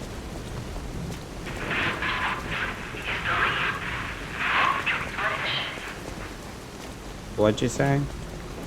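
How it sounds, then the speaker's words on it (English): Rain and rumbling thunder from the video game Lies of P roll on at moderate level, with bursts of louder crackling storm noise; a voice speaks briefly near the end. "It's raining, it's pouring."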